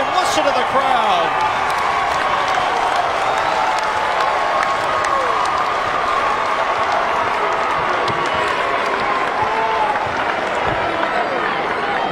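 A college basketball arena crowd at a St. Bonaventure vs. St. Joe's game roaring loudly and continuously, a thick wash of cheering and shouting that fills the space, with a commentator's voice over it.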